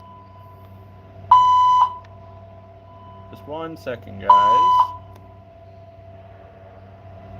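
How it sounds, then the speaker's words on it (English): Two loud electronic fire alarm beeps, each about half a second, separated by a pause in which a man briefly announces the zone; a faint steady tone hums underneath. "Fire alarm. Zone 2D."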